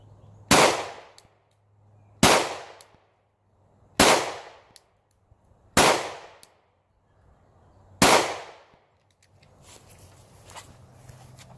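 Five loud, close gunshots from a .40 caliber pistol firing Winchester white box 180 grain rounds, evenly spaced about two seconds apart, each sharp crack trailing off with a short echo, followed by faint shuffling.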